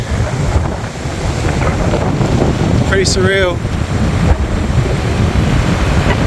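Strong wind buffets the microphone on a remote Nullarbor beach by a ruined jetty, with waves surging constantly beneath; a person speaks briefly partway through.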